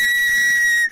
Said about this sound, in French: J'ai retrouvé mon sifflet, je suis content.